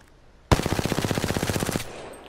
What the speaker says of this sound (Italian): Adesso spariamo contro il muro